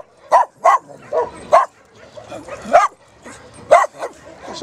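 A tiny, very adaptable dog at an adoption shelter gives a run of sharp, close barks and yips, about seven bursts spaced irregularly with some quieter whining sounds between them.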